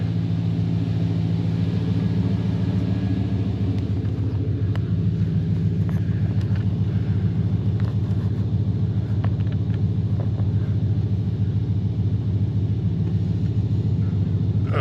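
An 88-93 Chevy OBS truck engine idles steadily with a low, constant rumble, close by, with a few faint clicks and taps over it and no talking.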